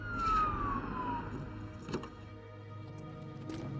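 A police car siren wails faintly in the distance, a single falling tone early on, quiet and thin beneath a low background hum with a few soft knocks.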